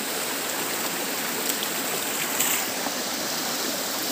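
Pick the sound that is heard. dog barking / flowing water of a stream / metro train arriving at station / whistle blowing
flowing water of a stream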